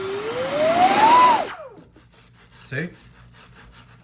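Servos on a custom RC airplane with Spektrum AS3X stabilization whir in a rising, gliding electric whine that cuts off, followed by a brief buzzy servo twitch, close up, with a short spoken word in between.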